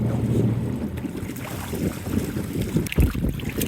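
Strong wind buffets the microphone out on open water from a fishing boat on a river or lake, a steady broadband rush with gusts and a sharp thump near the end, no voices.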